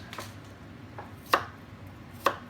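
A knife chops water chestnuts on a cutting board, giving a few sharp, separate thuds spread irregularly over a couple of seconds. The sound is close and fairly quiet, with no speech.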